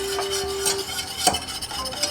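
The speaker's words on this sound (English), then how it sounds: "We'll whisk this together to get the lumps out" Whisk stirring powdered sugar with a pinch of kosher salt in a bowl, brisk scraping and light clinks against the bowl, close and steady with no talking.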